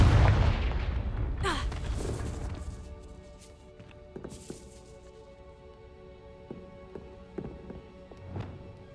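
Confringo blasting spells explode in the Hogwarts Legacy video game: a heavy booming burst opens, a second sharp blast follows, then scattered smaller cracks and thuds ring out over a low rumbling bed.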